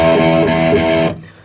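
An electric guitar runs through an amplifier with heavy distortion, playing a sustained, buzzing chord that rings loudly and then cuts off abruptly, leaving a short decay.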